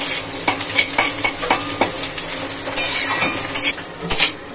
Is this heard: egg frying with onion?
yes